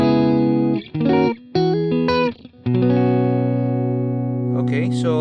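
An electric guitar runs through a clean preset on a Neural DSP Quad Cortex, playing sustained, ringing chords with brief pauses and changes, clear and fairly loud with no talking.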